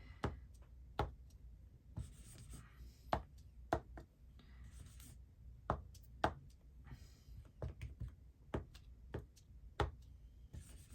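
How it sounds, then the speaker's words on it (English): Rubber stamp pressed repeatedly onto paper with thick, unevenly mixed paint of several colours, giving a run of close, sharp taps and thuds at an irregular pace with small scraping sounds between them. "Don't even mix it properly and just stamp away."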